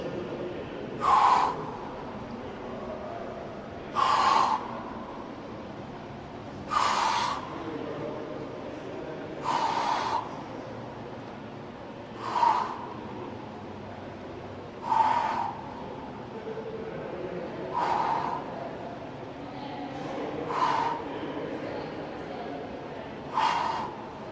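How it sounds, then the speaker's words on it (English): Sharp breaths during hanging knee crunches, nine evenly spaced gasping exhalations every few seconds, one with each knee lift, fairly close over a low background hum. "really coinciding that breathing with every lift of my knees"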